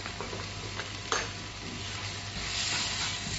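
Spoon stirring ground coriander, cumin and red chili powder in a sizzling pan for turmeric fish curry, a continuous close frying hiss with soft scrapes and one sharper knock of the utensil.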